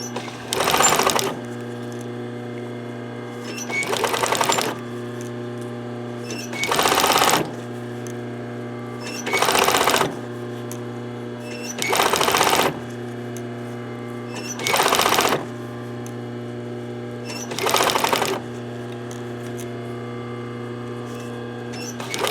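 A Bernina 950 sewing machine stitches a pencil case in eight short, loud whirring bursts, evenly spaced, with a low steady hum running between them.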